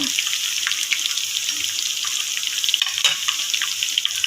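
Cumin seeds and curry leaves sizzle in hot oil for a tempering, a steady, dense crackle at moderate loudness, with no talk.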